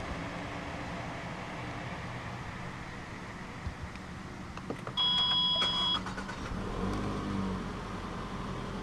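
A 2014 Toyota Camry 2.0 G is started with the push button: a brief chime-like beep, then the engine catches and settles into a low, quiet idle inside the cabin.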